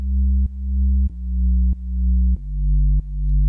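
Sustained synth tone passed through the CamelPhat 3.5 filter plugin in Maschine, a steady low, rich drone retriggered about every 0.6 seconds with small dips between notes, loud and alone with no voices.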